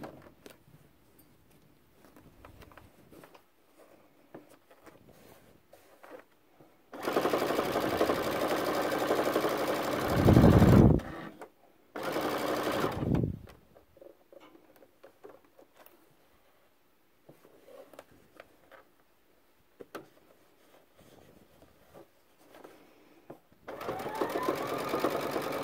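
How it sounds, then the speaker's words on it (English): A sewing machine runs a reinforcing stitch through fleece on a Christmas stocking, running loud and steady in two close bursts with a brief pause between, then starting again near the end. "So you just want to do just a reinforcing stitch there where that loop is going to be."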